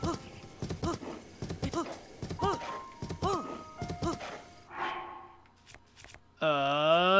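Horse hooves clip-clopping in Breath of the Wild, a rhythmic run of hoofbeats with tonal in-game sounds layered over them, ending in a loud sweeping game chime.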